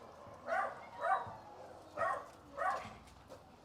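A trained dog barks on command, four separate barks spaced about half a second to a second apart, faint and fairly distant in a quiet setting.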